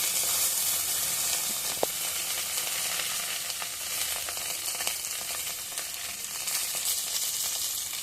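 Curry leaves and a dried red chili fry lightly in hot oil for upma, a steady close sizzle and hiss with a small sharp crackle near the start, no voices.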